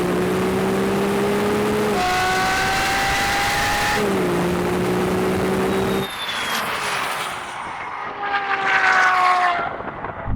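A Ferrari SF90 accelerates hard off the line in a drag race with all four wheels spinning, its loud engine rising through gear changes before the sound drops away and fades into the distance.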